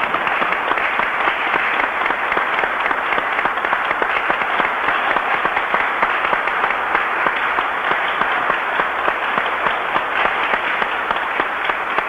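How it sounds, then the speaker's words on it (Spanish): A large crowd applauding at a live broadcast event with Hugo Chávez, dense continuous clapping that stays loud and steady throughout. "Ese aplauso viene del pueblo venezolano y del pueblo guatemalteco"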